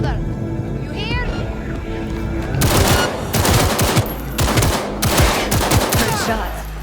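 Rapid automatic gunfire in Cyberpunk 2077 on PS5 rattles loud and close in repeated bursts, with game voices speaking beneath and between the volleys.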